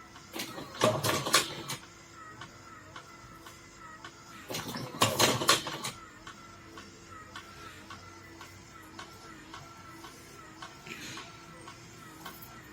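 Handmade cigarette rolling machine rolling a cigarette, with two loud bursts of rapid mechanical clattering separated by a few seconds, then faint clicks and handling sounds up close.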